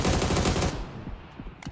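A burst of rapid automatic Famas fire in the battle royale game PUBG, loud and dense for under a second before trailing into a few scattered shots.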